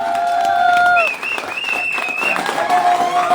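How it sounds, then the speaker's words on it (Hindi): Applause and crowd noise at a direct-selling business event honoring the company's founder, with clapping under loud sustained tonal sounds like music or a voice, fairly close and loud. "जोरदार तालियां हम चाहेंगे"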